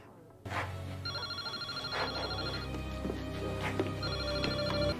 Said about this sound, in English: Your cellular phone's been ringing off the hook.